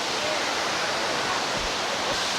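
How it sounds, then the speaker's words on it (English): A hidden waterfall near Mangalore is swollen with monsoon rain, and its heavy flow makes a loud, steady, broadband roar that fills the whole stretch without a break. "So the water flow is very high because of the monsoon."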